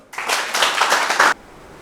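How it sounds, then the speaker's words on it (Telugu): A seated audience at a meditation session claps together in one dense burst lasting about a second, loud and close, then stops abruptly into quiet. "ఒకసారి కథల గట్టి క్లాప్ చేద్దాం"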